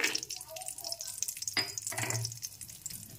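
Cashews sizzling in hot ghee in a pan for paneer pulao, a soft steady frying hiss with a couple of brief louder crackles and stirring scrapes, close and fairly quiet.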